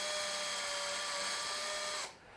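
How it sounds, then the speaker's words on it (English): A power drill bores steadily into the proximal section of a bone model, a continuous high whine lasting about two seconds before cutting off abruptly. "we're going to drill into the proximal section of the bone"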